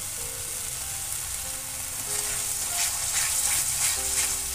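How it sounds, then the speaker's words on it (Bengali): Spice masala for Bengali baingan bharta frying in a pan with yogurt and coriander leaves, giving a steady close hiss of sizzling that grows a little louder partway through, with faint tonal hum in the background and no talking. "মশলাটাকে ভালো করে কষিয়ে নেব।"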